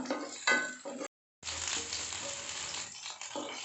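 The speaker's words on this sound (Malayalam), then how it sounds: "ഉള്ളി, ചുവന്നുള്ളി, ഇഞ്ചി, കറിവേപ്പിലയാണ് ഇപ്പോൾ വഴറ്റാനായിട്ട് ഇട്ട് കൊടുത്തേക്കുന്നത്" Onions, shallots, ginger and curry leaves sautéing in a pan for chammandi make a fairly faint sizzle. A brief silent gap interrupts it, and there are a few clinks of utensils.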